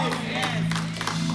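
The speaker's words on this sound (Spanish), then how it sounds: "Dale más fuerte esas palmas al Señor." A church congregation claps along during a lively worship service, a dense, steady wash of many hands over a sustained musical drone, with voices mixed into the crowd noise.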